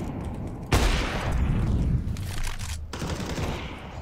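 Counter-Strike gunfire: a sharp loud shot bursts in, followed by a rapid rattling volley of automatic fire, then a second abrupt report near the end, close and harsh.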